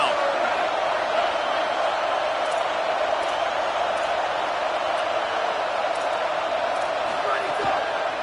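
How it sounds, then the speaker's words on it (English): A stadium crowd at an Indiana vs FSU college football game roars as the defense lines up on third down, a loud, dense and steady wall of noise that never drops away. "Decibels rising as the crowd gets behind this defense on third down"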